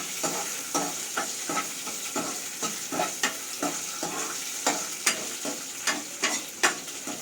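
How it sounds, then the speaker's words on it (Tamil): Ingredients for moong dal payasam roast in a pan, a continuous sizzle broken by rhythmic scraping strokes of a spatula about twice per second, close and clear. "இதெல்லாம் நல்லா வறுத்துட்டு அதில் தூக்கி கொட்டிடணும்"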